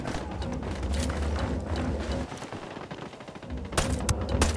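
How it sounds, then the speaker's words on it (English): Heavy gunfire in the video game Ghost Recon Wildlands: continuous automatic bursts and overlapping shots, loud and close, with a brief lull midway before another sharp volley. "Opening fire."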